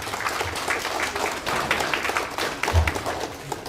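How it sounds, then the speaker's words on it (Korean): Audience applause at a political party policy talk show in Daejeon, steady clapping from a crowd lasting several seconds at moderate level with a little background voice. "다시 한번 그 육동일 정책자문위원장님께 큰 박수 부탁드리겠습니다"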